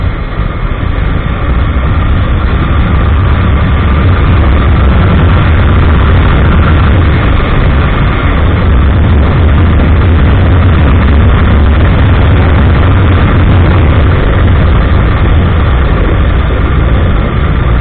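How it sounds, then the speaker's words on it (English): A KTM Duke 790 motorcycle engine on a test ride gives a loud, continuous, heavy drone that stays steady throughout and sounds close. "Now let us go for the test drive and experience the power of the KTM Duke 790."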